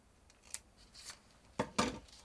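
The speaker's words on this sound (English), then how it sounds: "So I'm going to take scissors. The slit is the perfect place to start, and I'm going to just cut straight" Scissors snip through a paper heart for a hanging craft, giving a few quiet, crisp cuts in short separate bursts, with the clearest two near the end and no voices.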